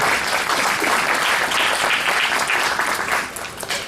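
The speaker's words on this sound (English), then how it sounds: "Let's give all these 4 a round of applause to start off with" An audience at a 4-H/FFA steer and market hog show claps for the four finalists, a dense burst of steady applause that thins out at the end.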